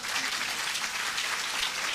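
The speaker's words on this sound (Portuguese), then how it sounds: "vamos dar uma salva de palmas de bom dia para vocês?" A lecture audience claps together in a steady, dense burst of applause, fairly close and even in level throughout, with no voices rising above it.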